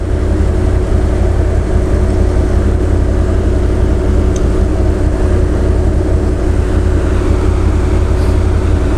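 A CF Moto Z Force 1000 side-by-side engine idles steadily and loudly throughout, a constant low droning rumble with a faint whine, no talk over it.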